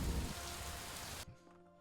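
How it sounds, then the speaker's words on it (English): Steady rain falling in the video game Superliminal, a dense broadband hiss that runs for over a second and then cuts off abruptly, leaving quiet behind. "At least I'm out of the rain."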